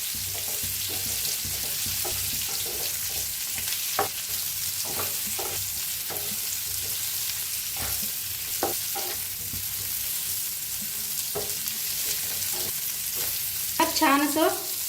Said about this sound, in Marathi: कारले सोडून घेऊया तेलात.